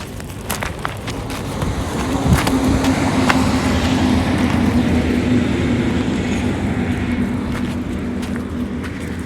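A car's engine and road noise fill the scene outdoors near young Anatolian Shepherd puppies, a loud, close, steady rumble with a faint hum running through it for the whole stretch.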